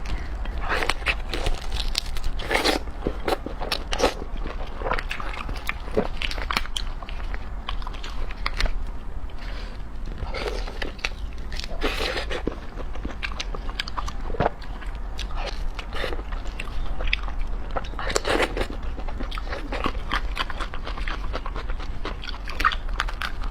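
Crunchy meat and shrimp heads bitten, chewed and sucked up close in an ASMR eating session, with steady wet crunching and smacking throughout and no talking.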